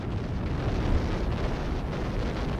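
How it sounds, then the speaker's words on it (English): An American 155mm gun barrage in the Second World War Italian campaign rolls on as a dense, continuous low rumble of blasts with no clear gaps. "The American 155mm gun was just one of the devastating weapons deployed."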